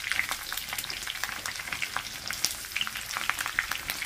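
Squid sizzling and spitting in hot oil in a pan, a steady dense crackle with sharp pops scattered throughout, close and fairly loud, with no talking.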